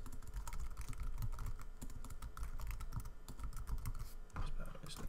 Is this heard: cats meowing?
no